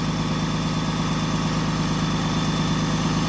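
A 2015 Freightliner M2 box truck's 6.7-liter Cummins ISB inline-6 diesel idles steadily up close, a constant low rumble with an even pulsing rhythm and no talk over it.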